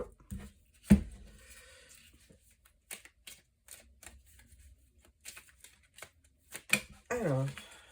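Tarot cards are cut and shuffled in several quick, close riffles and taps, while someone speaks French over and between them.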